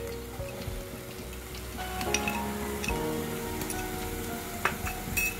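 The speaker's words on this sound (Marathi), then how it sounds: "आला लसूण पेस्ट घालून जरा परतून घ्यायचं" Ginger garlic paste frying in a pan with tomatoes and spices for a Goan Malvani chicken kheema: a soft continuous sizzle with light clinks and scrapes of a stirring spoon against the pan.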